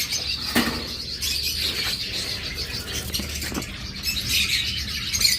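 Crimino opaline pet birds at a bird farm chirp and flutter in a steady, busy chorus, with a few sharper calls and brief wing flaps standing out against continuous background noise.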